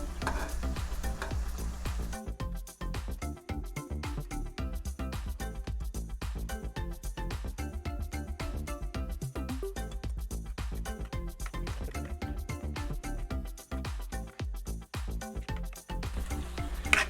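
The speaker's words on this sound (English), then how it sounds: "You'll definitely want tongs to be able to stir these tortillas around." Tortillas fry in hot oil and are stirred with tongs. A steady close sizzle carries through the whole stretch, broken by frequent light scrapes and clicks of the tongs.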